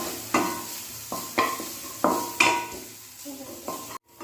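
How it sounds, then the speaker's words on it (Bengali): Grated carrot fries in ghee in a kadai over low to medium flame, with a soft sizzle beneath repeated spatula scrapes and clinks against the pan, roughly one stroke every second, close and without talk. "দিয়ে লো টু মিডিয়াম ফ্লেমে ভালো করে এটাকে ভেজে নিচ্ছি যাতে গাজরের কাঁচা গন্ধটা চলে যায়"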